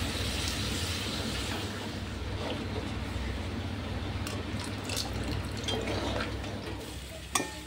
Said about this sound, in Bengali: এবার এর মধ্যে জল দেবো, গরম জল দেবো, তাহলে স্বাদটা ভালো হবে।